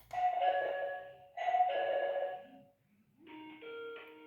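An Ezviz DP2C peephole doorbell camera chime rings twice with sustained tones, followed by a different brighter multi-tone melody after a brief pause.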